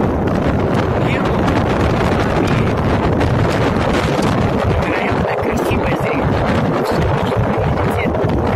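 A very strong wind on the shore of a pink lake roars continuously and loudly, buffeting the microphone with heavy rumbling gusts throughout, nearly drowning out everything else.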